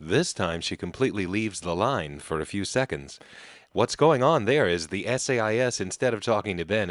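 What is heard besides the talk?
No everyday noise stands out behind the speech.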